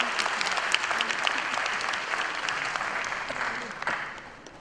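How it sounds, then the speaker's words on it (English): Conference audience at a plenary session clapping for a UNESCO speaker being introduced, a brisk, steady patter of many hands that holds for several seconds and then tapers off. "Can you please give her a round of applause?"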